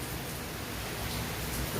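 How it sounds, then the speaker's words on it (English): Heavy rain pouring down outdoors: a continuous, even wash of broadband hiss, fairly faint and unchanging throughout, with no voices. "It is pouring down outside."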